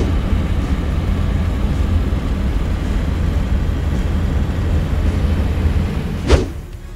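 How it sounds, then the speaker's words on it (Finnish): A 1985 Lada 1200L engine idles steadily just after starting, a low continuous rumble heard up close, with a brief clunk near the end and no talking. "Hienosti lähti kyllä käyntiin."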